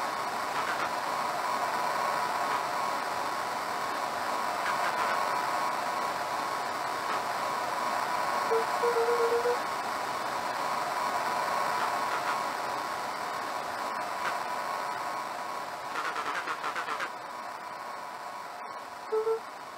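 Walkie-talkie radio static from the video game Beacon Pines: a steady, close hiss of noise that runs unbroken through the whole stretch, with a few brief crackles and faint blips near the end.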